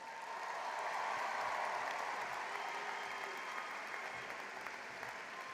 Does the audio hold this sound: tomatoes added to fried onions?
no